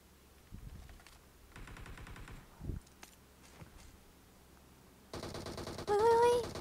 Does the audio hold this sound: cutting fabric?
no